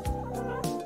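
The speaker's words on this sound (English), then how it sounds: "Pecking chicken." A chicken, shown pecking in a children's programme, gives a short warbling cluck of several quick pulsing notes, close and clear with no talk.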